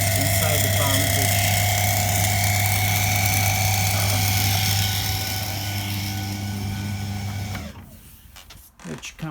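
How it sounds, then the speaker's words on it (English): Continuous whirring, buzzing hum from a faulty pump inside a tumble dryer, loud and steady for several seconds before cutting out, followed by a few faint knocks. "So if anyone hears this weird noise inside the pump"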